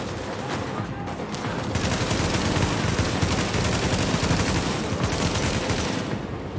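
Gunfire in The Division, a co-op shooter: dense, continuous rapid shots from several weapons form a loud, unbroken fusillade, with voices faintly beneath.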